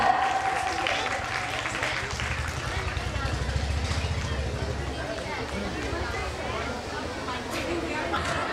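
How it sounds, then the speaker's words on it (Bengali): An audience applauds at a school's 75th-anniversary annual prize distribution, a dense patter of clapping that swells and then thins out, with chatter and background noise mixed in. "সবাই একটু জোরে হাততালি।"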